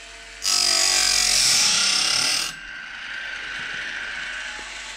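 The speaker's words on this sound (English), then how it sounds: "Just sharpening the tooth. And just hitting the downside of the gullet." A Woodland Mills Grindlux 4000 sharpener grinds a sawmill blade tooth, one loud, bright, steady grinding whine lasting about two seconds, then dropping to a quieter motor hum.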